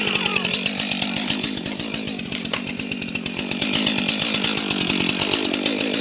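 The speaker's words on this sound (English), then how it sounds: "I'm gonna cut these right now." A chainsaw runs steadily while cutting down trees on a farm, a loud close buzzing drone with a fast pulsing rhythm that rises and dips slightly as the blade bites into the wood.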